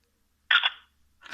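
A Motorola RAZR V3 flip phone's camera takes a photo with a short electronic shutter chirp that rises out of silence, followed by the start of a second tone just after.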